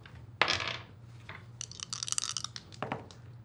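Dice rattle and clatter across a table during a tabletop role-playing game check, a close sharp shake followed by a run of quick tumbling clicks and a final knock.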